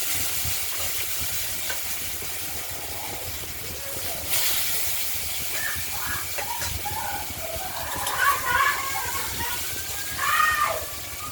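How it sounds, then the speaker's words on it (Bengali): Potatoes fry in hot oil tempered with black cumin (kalo jeere) and bay leaf, a soft steady hiss and sizzle with a few brighter crackling bursts near the end, fairly faint and heard alone. "আলুগুলো ভাজা করে নিচ্ছি ফোড়নের সঙ্গে।"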